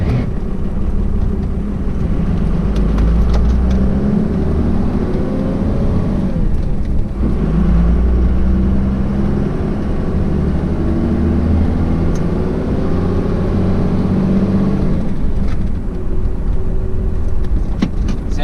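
A cold, not yet warmed-up car engine drones loudly and steadily, its pitch climbing and dropping as it revs through the gears without a clutch, with no voices.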